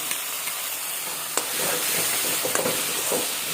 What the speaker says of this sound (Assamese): এইখিনি একেলগে মিলাই অকণমান টাইম ফ্ৰাই কৰিম।